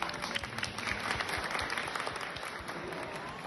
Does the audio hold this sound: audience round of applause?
yes